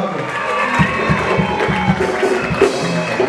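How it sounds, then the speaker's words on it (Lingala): A crowd at a French-language religious gathering cheers and applauds to welcome the prophets. There is a loud continuous wash of clapping and shouting with rhythmic claps, and voices call out over it. "Est-ce qu'on peut acclamer pour les prophètes miracle?"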